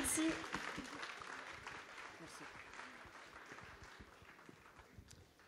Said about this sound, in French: on peut les applaudir très fort